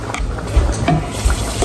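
Eggs going into a bowl of cold water in a home kitchen, heard as soft splashes and liquid sloshing with a few small knocks, fairly close, and no talk.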